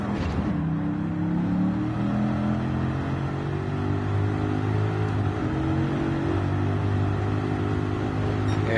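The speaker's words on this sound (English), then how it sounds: "hearing a bone stock car, no exhaust, is really intriguing" Bone-stock car with no exhaust modifications in Gran Turismo, its engine droning steadily with layered harmonic tones that dip slightly and climb again, loud and close, with no voices.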